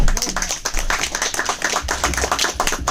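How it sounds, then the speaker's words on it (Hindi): Clapping from an audience at a business seminar in Ahmedabad, a dense, close patter of many hands going on steadily for a few seconds. "सिर्फ इतनी ताली?"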